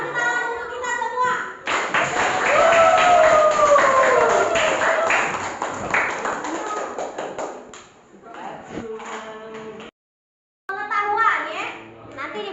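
Applause in a classroom breaks out in a burst of clapping mixed with children's excited voices. It swells for several seconds and then fades into scattered sounds and talk.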